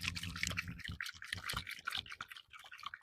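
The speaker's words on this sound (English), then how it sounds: "And you just give it a good shake." Oil and vinegar dressing shaken hard in a lidded jar, giving a steady run of close, busy sloshing and rattling bursts with no talk over it.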